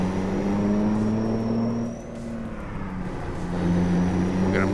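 A heavy truck in American Truck Simulator or Euro Truck Simulator 2, driven through an 18-speed Eaton Fuller gearbox, holds a steady loud engine drone that climbs in pitch as it winds out, briefly dips at a shift, then rises again.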